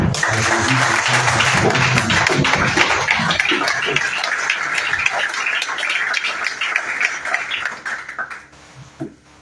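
A church congregation applauds in a dense, sustained wash of clapping that holds steady and then thins and fades away near the end.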